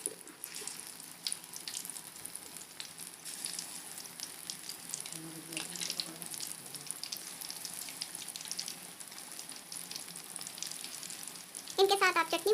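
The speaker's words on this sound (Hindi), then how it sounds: "देखिए तेल जो है वो हमारा गर्म हो चुका है। तो चलिए अभी हम इसमें बाकी के जो हैं पकौड़े वो भी डाल देते हैं।" Vegetable pakoras fry in hot oil with a continuous close sizzling hiss, holding steady throughout and swelling slightly louder near the end.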